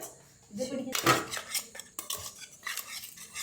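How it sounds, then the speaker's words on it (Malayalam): Batter for param pori, mixed with water in a bowl, gives repeated scraping and clinking of a utensil against the bowl, with clatter in short bursts and no talk. "നല്ലോണം നമുക്കിനി മിക്സ് ചെയ്യാം"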